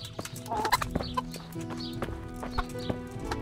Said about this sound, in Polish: tutaj są kury teoretycznie